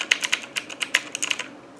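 Rapid keystrokes on a Dierya mechanical RGB keyboard, a dozen or so crisp clicky taps in an uneven typing rhythm, close and clear with no talking.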